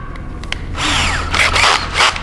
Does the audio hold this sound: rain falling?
no